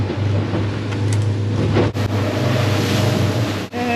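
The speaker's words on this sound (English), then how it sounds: "quite a bit of spray coming over the back deck there, but to be honest, the boat's skipping along lovely at this sort of speed" A fishing boat with both engines running skips along at speed, spray coming over the back deck, giving a loud rushing roar of hull, water and wind with deep engine drone underneath and sharp slaps at moments.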